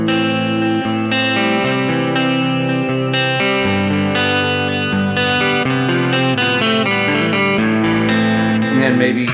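Electric guitar through a NUX Cerberus multi-effects pedal with delay and reverb engaged, sustained picked notes and chords ringing with echoing repeats and a wide ambient wash, loud and continuous.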